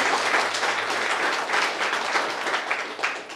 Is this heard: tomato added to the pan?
no